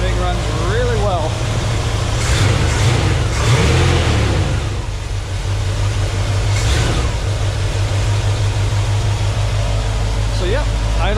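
A 1985 Chevrolet K20 square body pickup truck engine runs close by at a steady, loud idle with a constant low drone, while someone talks over it.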